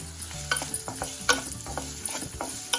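Onions sautéing in a kadhai sizzle steadily while a spoon scrapes and knocks against the metal in irregular close strokes.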